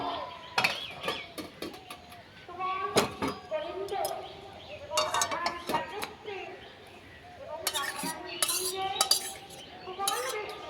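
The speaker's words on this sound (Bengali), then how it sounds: "স্টিলের একটা ঝুড়ি নিয়েছি, এই ঝুড়িতে এখন আমি ঢেলে দেব।" Boiled raw papaya is poured from a pot into a steel colander in a home kitchen, with loud metallic clanks and clatters coming in bursts between quieter pauses while someone talks.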